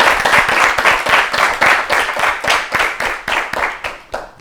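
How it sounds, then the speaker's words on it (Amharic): A studio audience at an Ethiopian children's quiz show claps for a contestant, a loud, dense burst of many hands that pulses steadily and then thins toward the end. "አጨብጭቡላት።"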